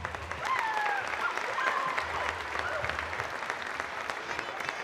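Audience applause at a handball club's season-ending gathering for a longtime club leader, steady clapping from a sizable crowd with faint tonal sounds and a few voices underneath.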